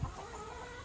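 A rooster gives a single quick, faint cluck that is over almost as soon as it starts, set against quiet background noise.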